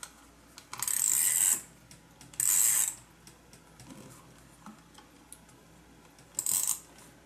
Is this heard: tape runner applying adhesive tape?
yes